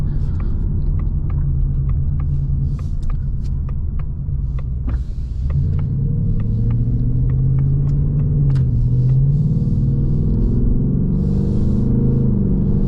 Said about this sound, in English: the exhaust is in track mode, by the way.